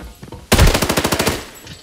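Rapid automatic gunfire from a video game shooter bursts in loud and close after a half-second lull, about a dozen evenly spaced shots in one sustained burst that trails off toward the end.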